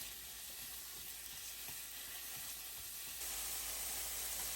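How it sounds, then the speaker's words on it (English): Aromatics stir frying in hot oil in a wok give a steady, close sizzle with faint stirring clicks, growing slightly louder and brighter near the end; no voices. "add in our aromatics and stir fry until softened and fragrant"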